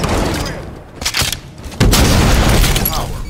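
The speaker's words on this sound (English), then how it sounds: "Throwing a grenade!" Explosions in Halo CE multiplayer slayer, a grenade blast among several heavy booms and gunfire bursts, loud and close with overlapping impacts, the biggest blast landing near the end.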